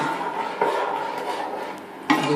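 A spoon stirs sugar in a pot to make a sugar syrup for sweet chow chow, with soft scraping and two sharper metallic clinks against the pot, close and fairly quiet.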